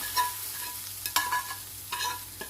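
Garlic tempering poured into chutney gives quiet sizzling crackles with a few sharp spoon or pan clinks, intermittent and fairly faint, with no talking.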